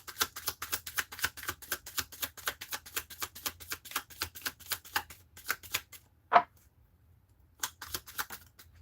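Tarot cards are shuffled in quick, crisp riffling bursts that keep a steady, rapid rhythm, pause briefly after one sharp tap, then start up again close by with no talking.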